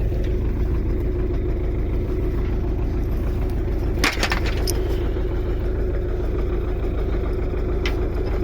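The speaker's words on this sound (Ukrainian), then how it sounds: "І трактор єлі завівся." A tractor engine runs on a frosty morning, a loud, steady, close rumble that idles evenly without pause, with a couple of brief faint clicks over it.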